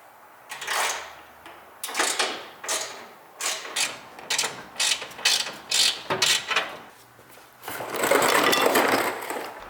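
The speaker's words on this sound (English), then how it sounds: "screw the 10mm bolts right back in" Ratchet wrench driving 10mm bolts into a truck fog light bracket, a series of short clicking bursts in uneven groups followed by a longer, louder stretch of ratcheting, close up with no talk.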